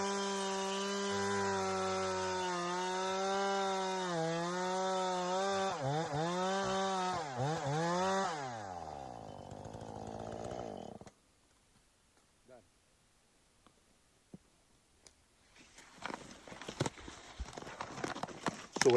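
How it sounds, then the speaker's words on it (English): A chainsaw bores down into a wooden log from the top, its engine loud and close, revving and bogging in pitch for several seconds before cutting off, followed by near silence and scattered clatter. "I just took the chainsaw and I bored in from the top"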